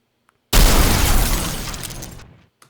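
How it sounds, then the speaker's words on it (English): A giant robot spider explodes in a video game: one sudden loud blast with crackling, shattering debris that rolls on and fades over about two seconds, then a faint small pop. "Spider destroyed explosion."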